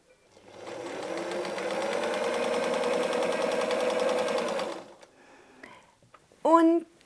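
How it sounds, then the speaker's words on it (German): A sewing machine stitches a quarter-inch seam through a quilt block, a steady close whir lasting about four seconds before stopping, followed by quiet handling and a brief voice. "Und wenn wir jetzt nähen, dann sollte unsere Viertel-Inch Naht genau durch diese Punkte wandern."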